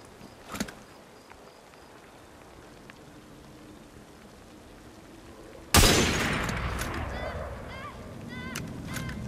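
A loud gunshot cracks in a bottle-shooting contest in Assassin's Creed Syndicate, its broad burst spreading over a noisy ambient bed and fading into a lingering wash with faint chirps, after a quiet stretch.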